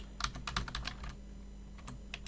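Rapid, light computer keyboard typing while configuring an Ubuntu server's network settings, with a quick burst of close keystrokes, a short pause, then a few scattered presses, alone without talk.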